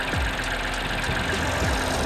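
A car engine idles under the hood, its side shaking on a failed engine mount, giving a steady low rumble with faint rhythmic knocking and rattling pulses, close by and without talk.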